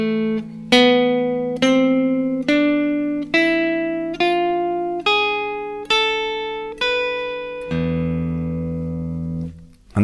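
The A harmonic minor scale played from E as the Phrygian dominant mode, a series of clear single notes rising one by one at an even pace, each ringing and decaying, ending on a sustained lower note.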